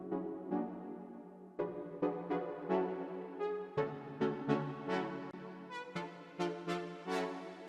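A simple synthesizer plays a melodic phrase of separate notes whose attack and decay gradually lengthen under automated envelope shaping, so the notes swell and ring longer as the line moves on. It plays alone with no talking, in a Five Nights at Freddy's movie remix.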